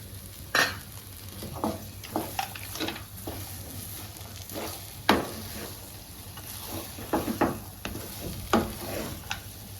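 Raisins and cashews stirred into rava kesari in a pan, with soft scraping strokes in an irregular rhythm over a faint sizzle, close and quiet, no voices.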